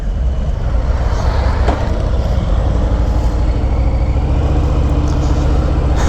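A 2021 Harley-Davidson Fat Boy motorcycle is ridden with its engine rumbling deep and steady, a loud continuous low drone under rushing wind noise, with no talk.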